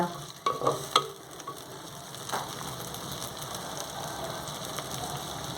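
Onions soften in a pan for a traditional mango curry, a gentle continuous sizzle with a few spatula clinks and scrapes near the start, close and steady.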